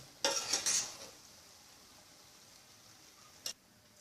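A utensil stirs a pot of vegetable biryani rice with fried bread: a quick burst of faint scraping clinks, then quiet, then one more short clink.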